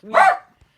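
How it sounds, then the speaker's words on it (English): A pet dog named Puppy gives a single sharp, close bark, loud and brief, followed by silence. "That's my dog, Puppy."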